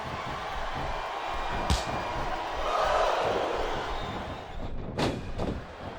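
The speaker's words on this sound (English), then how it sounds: "Sounds like this crowd's got something on their minds" A large video game wrestling arena crowd roars and murmurs steadily, swelling in places, with a couple of sharp thuds cutting through the noise.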